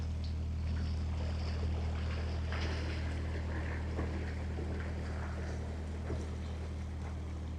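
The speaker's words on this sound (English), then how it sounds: "Beautiful boat. I'm just recording you going by." A low, steady engine drone of a canal boat going past nearby on a canal, with wind buffeting the microphone and faint water sounds.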